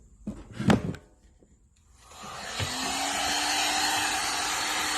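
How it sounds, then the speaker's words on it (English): A heat gun starts up and runs steadily to warm a speaker terminal during a recone of a Crossfire C7 18-inch subwoofer, its broad whooshing roar rising in pitch as the fan spins up, after a few short handling clicks. "Get our heat gun and heat it up."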